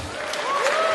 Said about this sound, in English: Round of applause for Nigel,